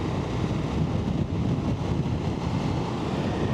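Strong wind roars across a Ducati Multistrada V4 Rally rider's microphone on a scenic road in Halland, a dense, constant buffeting rush that fills the whole clip at close range with no speech.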